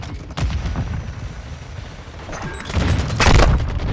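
Explosive blast from a Semtex grenade amid bursts of gunfire in Call of Duty: Modern Warfare II, with a steady rumble of battle and a louder, broader crash late in the moment.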